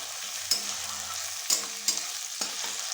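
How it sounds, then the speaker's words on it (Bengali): Onions and tomatoes with garlic and green chilli paste and a little salt sizzle steadily in a pan, broken by four sharp spatula scrapes as the mixture is stirred for a small-fish tomato curry. "সব কিছুকে আবারও খুব ভালোভাবে মিশিয়ে নেব।"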